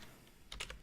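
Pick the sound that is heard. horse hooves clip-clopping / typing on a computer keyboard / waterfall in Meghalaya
typing on a computer keyboard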